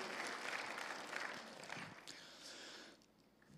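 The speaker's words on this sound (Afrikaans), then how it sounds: "Gee die Here 'n hande klap." Church congregation applauding together, a dense, steady wash of many hands clapping that carries on for several seconds before easing slightly near the end.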